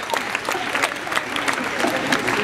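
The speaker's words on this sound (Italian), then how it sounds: "Un applauso da Forza Maria." During an outdoor summer comedy show, an audience claps in a brief, lively burst of applause that stays close and steady throughout, with a light murmur of crowd underneath.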